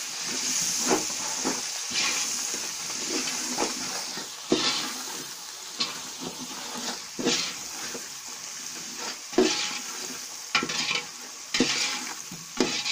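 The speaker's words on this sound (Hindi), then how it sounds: "अब इसको थोड़ी देर भूनेंगे।" Green chillies and sliced vegetables fry in a pan for a vegetable pulao, giving a steady hiss and sizzle, with repeated scraping stirs that come in bursts throughout, loud and close with no talking.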